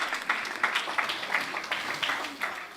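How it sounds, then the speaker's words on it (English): An audience at a speaking event claps in brief, fairly sparse applause, with distinct hand claps rising and falling at moderate distance. "Please, can you put your hands together for her?"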